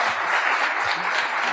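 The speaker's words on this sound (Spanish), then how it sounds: "Un aplauso para María Eugenia." Audience applause at a youth science forum talk on education for sustainable development in Argentina, a steady dense wash of clapping from a crowd, loud and close, with no voices over it.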